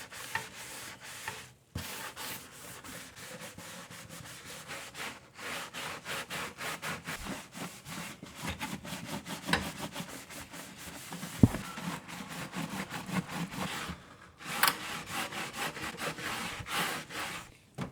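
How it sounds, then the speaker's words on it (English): Steady close rubbing and scouring inside an air fryer as a Dobie scrub sponge works over greasy surfaces with dish soap, a continuous rasping texture with brief pauses and no talk. "We're going to take our Dobie scrubber."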